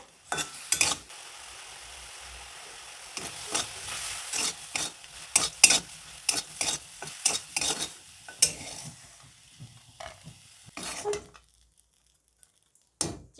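Shrimp coated in turmeric and salt sizzle and spatter in a hot wok with bursts of stirring and clinking, uneven and close, fading out near the end.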